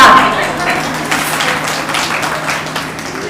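An audience at a women's association conference in Madhya Pradesh applauds loudly and continuously, a thick wash of clapping that fades slightly toward the end, with voices mixed in.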